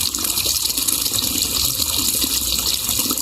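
River water splashing as people wade across a rural river in the province: a steady, loud rushing and gushing wash of water with no pauses and no voices.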